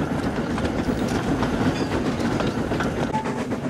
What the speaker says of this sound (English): One day, Henry was puffing down the line.